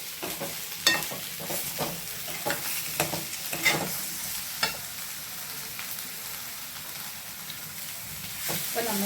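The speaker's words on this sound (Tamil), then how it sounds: "உப்பு, தேங்காய் போட்டு ஒரு வதக்குனா போதுங்க." Mint leaves sautéed with salt and coconut in a pan for mint chutney, giving a quiet, steady sizzle broken by repeated spatula scrapes and clatters, close up and without talk.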